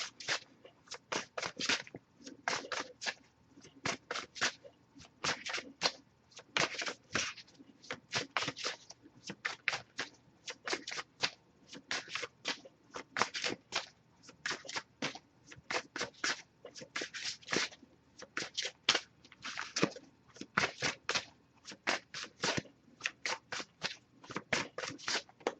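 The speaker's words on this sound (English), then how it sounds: "I'll give a few more shuffles" Tarot and oracle decks being shuffled during a card reading, a long steady run of quick riffling and papery slaps repeating close to the mic, with faint background noise and no voices.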